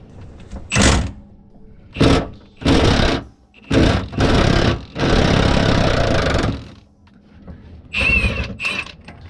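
An upper mount bolt on a Mustang is removed with a chrome socket on a power tool, producing a series of loud, close mechanical whirring bursts, each lasting about a second, separated by brief pauses.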